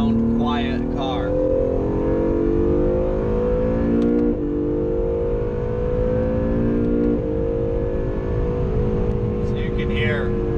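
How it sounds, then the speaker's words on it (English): A 2017 Acura NSX sports car accelerating hard on a race track, its engine note climbing steadily through gear changes with brief dips at each shift, loud and close from inside the cabin, with talk over it. "So you can hear, car's got great acceleration"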